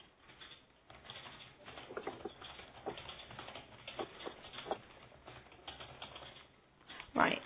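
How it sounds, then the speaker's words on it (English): Soft, irregular keyboard typing runs under a quiet room tone, with a louder clatter near the end. "I'm just typing it out now."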